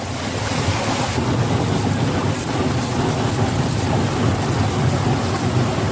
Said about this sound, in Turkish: Dağlar arasındaki kar tüneli doğal şelalenin üzerine bir köprü gibi örterek altından berrak suların akmasına izin veriyor